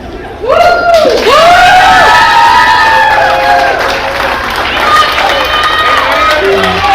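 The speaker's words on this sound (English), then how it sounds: "Just want to thank everybody who's cheering for me." A loud wrestling crowd in Canada cheers and shouts with high-pitched whoops and excited yells rising over a dense roar, close and boisterous, swelling early and staying energetic to the end.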